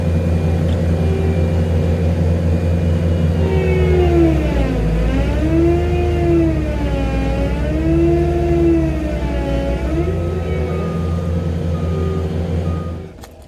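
Bobcat T770 and CAT 289 skid steers drive in high 2-speed range, their engines droning loudly with hydraulic whines rising and falling in pitch as they move, before the sound drops off abruptly at the end.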